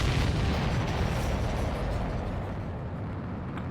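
Missile explosions and battle noise in the video game Ace Combat 7, heard as a dense, continuous roar of booms and bursts throughout, loud and fully filling the clip.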